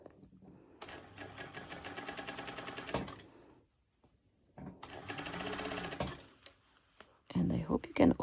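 A sewing machine stitches through thick fabric in two close, rapid runs of rhythmic mechanical clatter separated by a pause, with a brief burst of handling noise at the end.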